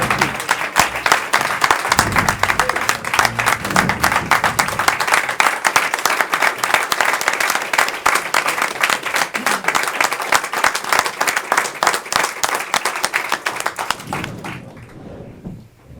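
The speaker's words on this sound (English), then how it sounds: "Let's have another round of applause for an appreciation for Amy Cohen." An audience at a New York governor's bill-signing event for speed zone legislation claps in sustained, dense applause for about fourteen seconds, loud and steady before tapering off at the end.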